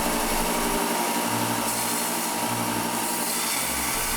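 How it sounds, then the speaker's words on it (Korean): Acrylic sword blade, drawn with a 3D pen, being ground down, a steady high-pitched grinding whine that runs close and continuous with slight dips in pitch, and no talking. "날을 가는데 생각보다 오래 걸립니다."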